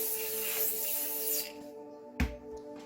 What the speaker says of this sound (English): Try not to spray all of this right here because it'll stick to the shirt.